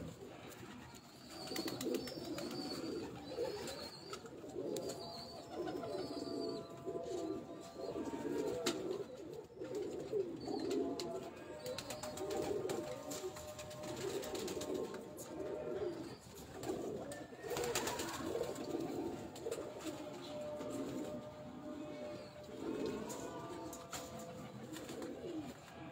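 Pigeons coo on a rooftop loft, a steady, overlapping stream of soft rhythmic calls from several birds, fairly close, continuing without pause throughout.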